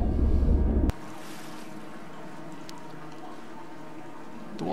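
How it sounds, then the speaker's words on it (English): Water rushing near a waterfall in the video game Dear Esther, a steady, soft broadband wash that follows a brief louder burst at the start and continues alone. "The water effects are relatively nicely done. And that is a nice looking waterfall there."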